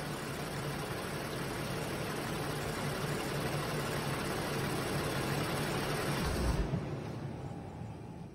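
A 2016-2022 Lexus RX350 engine idles steadily at low volume, a faint continuous hum under airy hiss from hot air blowing, with no talking.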